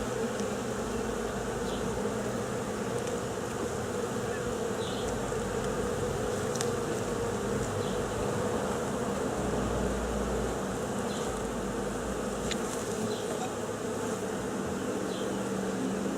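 Honeybees buzz around an open beehive in a dense, steady drone that runs throughout at an even level, with no voices.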